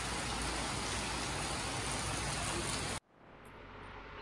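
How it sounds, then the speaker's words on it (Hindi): Steady heavy rain falls in Dalhousie, a dense loud hiss filling the first three seconds before dropping sharply to a softer, quieter wash of rain that gradually rises again. "अभी भी बारिश हो रही है जैसा कि आप देख सकते हो."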